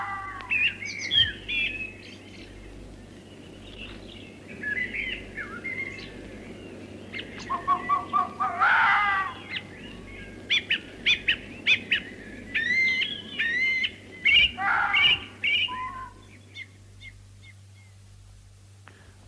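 Spring bird chorus in the English countryside, with several birds calling and singing in overlapping bursts of chirps and whistles, moderately close, over a steady low hum and no talk.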